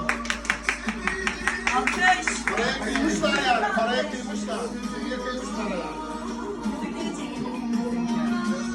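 Clapping from a small gathering at a Turkish engagement ceremony, a burst of quick, close claps in the opening seconds that soon fades under lively chatter and talking voices.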